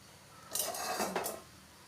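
A metal wok being set down on a kitchen stove while cooking a banana-stem thoran gives a brief clatter and scrape of metal cookware, close but fairly quiet, with no talk.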